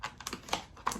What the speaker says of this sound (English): so let's cut this open and see how good the knife is